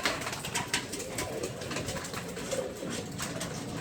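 Racing pigeons cooing steadily at close range, a dense murmur of soft overlapping coos running through the whole stretch with no talk.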